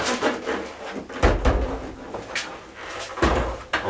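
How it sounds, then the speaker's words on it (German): An Opel Corsa car door is handled and laid onto a workshop workbench, giving heavy thuds and clunks among rustling and scraping of metal, close and fairly loud with no talking. "So, dann haben wir hier die Tür, dann legen wir uns die mal hier so drauf."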